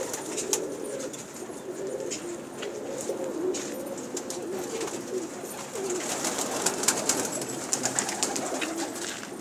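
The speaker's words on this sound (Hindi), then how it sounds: "खतन कबूतर है ये, माशाल्लाह बहुत अच्छा।" Pigeons kept by a pigeon fancier coo softly and repeatedly at close range, low throaty calls mixed with occasional chirps and wing or cage rustles, no talking.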